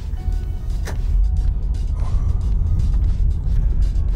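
A Hyundai H1 van on a test drive gives a loud, steady low road and engine rumble from inside the cabin, with occasional creaks and mechanical clicks and no talking.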